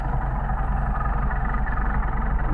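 A Mercedes 190SL engine with Solex carburetors idles at low rpm, a loud, steady, close rumble with an even pulsing throb throughout.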